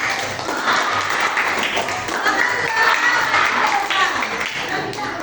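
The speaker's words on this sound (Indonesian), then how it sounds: "tepuk tangan untuk kelompok jarak depan." Group applause with rapid, uneven clapping filling the room, fairly loud and sustained, with some voices underneath.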